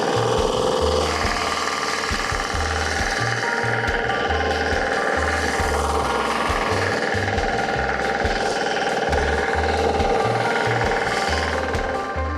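A mini four-wheel tractor engine is throttled up in a weedy field, giving a loud, continuous, rapid knocking drone close by. The deep rhythmic chug wavers slightly in pitch.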